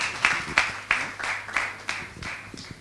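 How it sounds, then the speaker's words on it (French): An audience claps for an introduced guest at an evening MC afterwork event, with steady rhythmic claps under a mix of crowd noise and a low hum. "que je vous prie d'applaudir très fort"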